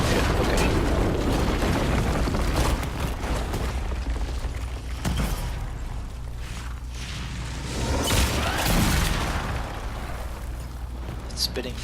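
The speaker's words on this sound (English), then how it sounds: "It's spitting fire." An enemy spitting fire in Dragon Age: Inquisition, a loud sustained roaring, rumbling blast with bursts of crashing impacts, layered under game noise and a talking player.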